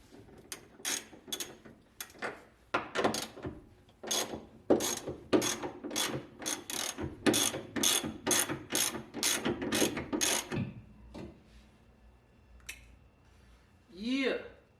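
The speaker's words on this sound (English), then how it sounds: "let's get these screws off." A ratchet loosens screws on a Honda EK hatchback, with a long run of rapid close clicking strokes that stops before a quiet stretch, and a person speaks near the end.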